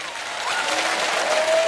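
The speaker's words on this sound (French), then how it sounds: "Oui, je pense qu'on peut l'applaudir." An audience at an electronic concert at the Francofolies festival in La Rochelle applauds in a brief, loud burst of crowd clapping, with a faint tone running underneath.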